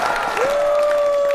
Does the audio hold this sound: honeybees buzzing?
no